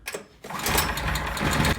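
A small EFI 420 cc engine fitted in a Honda Insight cranks and catches after a brief quiet moment, settling into a steady, fairly loud buzzing run with a rapid rhythmic beat.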